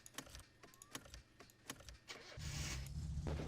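An old car cranks in the game Birchman's Summer Car: a few sharp mechanical clicks and clunks, then the engine catches and settles into a loud, steady running rumble.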